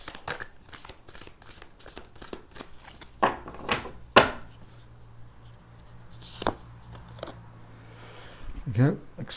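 Moonology oracle cards shuffled by hand in quick repeated riffling bursts, close and moderately loud, with a low steady hum beneath and a few brief vocal sounds.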